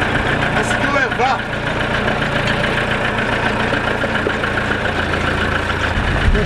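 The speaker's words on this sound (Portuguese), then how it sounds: "A Ford Ranger puxa o trator" Ford Ranger pickup engine straining under load while towing a tractor, a steady low rumble with knocking under talk in the background.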